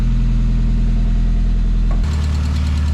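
A 1994 Mazda Miata engine idles steadily after start-up following months of sitting, a low continuous rumble close by that shifts to a slightly rougher, pulsing idle partway through.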